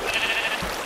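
A Minecraft sheep bleats once, a short clear wavering cry standing out alone against quiet game background.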